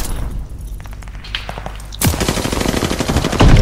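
Rapid automatic gunfire from the Call of Duty: Vanguard video game, loud bursts of close shots that begin abruptly partway through and continue densely to the end, with a few faint shots before.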